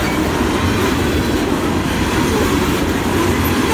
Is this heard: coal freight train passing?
yes